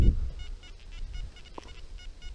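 Metal detector sweeping over a field signals a tiny target with a short, faint tonal beep partway through, under low rustling and outdoor background noise.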